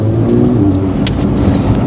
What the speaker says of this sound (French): Puis même t'entends, tu sais, le moteur à l'arrière.